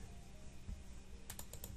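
Typing on a computer keyboard while editing HL7 messages in a software demo: a short, quick burst of several crisp key clicks near the end, alone and close, over faint room hiss.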